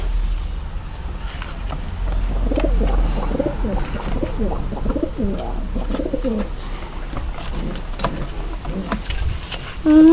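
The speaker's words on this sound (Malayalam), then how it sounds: "ഇന്നത്തെ പ്രാവ് ഇതായിട്ടാണ് വരുന്നത്" Pigeons coo in a steady series of soft, low, throaty calls, close by and moderately loud, over a faint outdoor background hum; no talk is heard.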